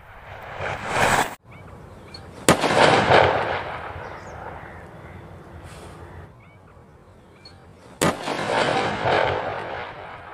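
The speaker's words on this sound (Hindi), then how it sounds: "जो लास्ट वाला था कपड़े वाला वो काफ़ी तेज साउंड से फटा है" A homemade sulphur-potash wall bomb wrapped in cloth explodes with sharp, loud bangs outdoors. Several sudden blasts are heard, each followed by a noisy rumbling tail.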